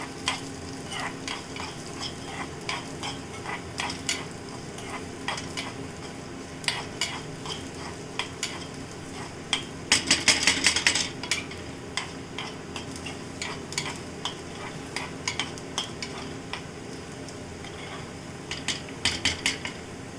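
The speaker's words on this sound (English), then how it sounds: "Half tablespoon jeera. And few peppercorns. Just fry." Cumin seeds and peppercorns fry in a pan for a Sambar, a steady sizzle broken by sharp metal spoon scrapes and clinks, busiest around ten seconds, with no talking.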